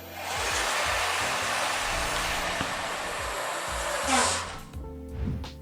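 Bafang e-bike mid-drive motor, set up with a 500C LCD display for BBSHD/BBS02/BBS01, whirring steadily on throttle, loud and continuous, then tapering off near the end with a few thumps.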